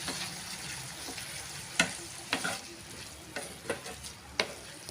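A spoon stirs bottle gourd masala in a sizzling frying pan, with several distinct scraping strokes spaced irregularly over a soft, steady frying hiss, heard close up without speech.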